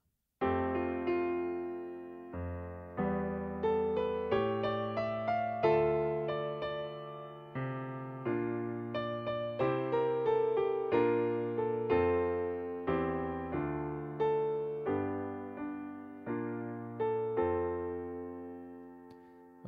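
Solo piano plays the opening measures of a song, a gentle melody over chordal accompaniment with clear sustained notes and a steady, unhurried pulse, close and alone without talking.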